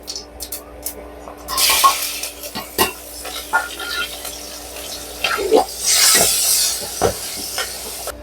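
Mustard and cumin seeds sizzling in oil, two loud hissing bursts amid scattered clicks and utensil clatter nearby.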